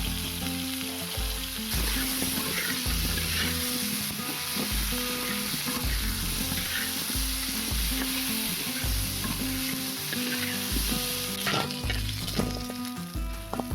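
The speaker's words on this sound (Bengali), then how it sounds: "প্রথমে আলুটা ভাজা করে নেব লবণ আর হলুদ দিয়ে।" Potatoes fry in oil with salt and turmeric in a Bengali village kitchen. The sizzle is loud and continuous, with repeated stirring scrapes and clinks close by and no voices.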